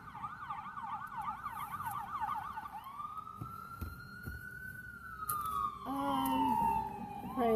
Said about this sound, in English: Praise the Lord, the ambulance is going by.